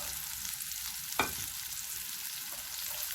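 Potatoes frying with salt, pepper and cumin in a pan, a soft constant sizzle with one sharp clack of a utensil partway through.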